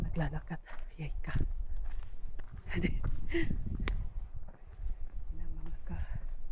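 Footsteps crunch along a trail on a winter hike in Arizona, a few irregular steps close to the microphone, mixed with voices talking.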